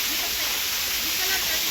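Water gushes steadily from a solar pump's full 3.5-size pipe under a 30-metre head, a dense, even roaring hiss that stays loud and close throughout.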